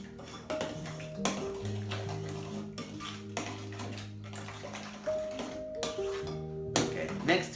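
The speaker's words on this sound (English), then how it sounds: "Now we will just mix to incorporate the sugar with the eggs." A utensil clinks and scrapes against a bowl while castor sugar is whisked into eggs, a rhythmic series of light metallic taps and rattles at close range, fairly quiet throughout.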